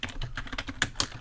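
Quick typing on a computer keyboard while writing a document in LibreOffice Writer, with a run of close, crisp key clicks at an uneven rhythm and a couple of sharper strikes near the end.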